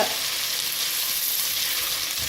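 Continuous hissing sizzle of ginger garlic paste frying in a hot pan, close and even, with no talking.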